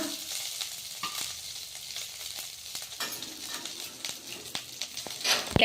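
Okra frying in a little oil for a Karnataka-style okra chutney, a soft steady sizzle broken by frequent scraping stirs and clicks of a spoon on the pan, close and without talk.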